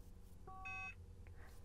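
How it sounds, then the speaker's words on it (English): A short electronic beep sounds once, a brief two-tone ignition warning chime from a Bentley Turbo R dashboard, faint against a low background hum. "see it starts beeping away at me"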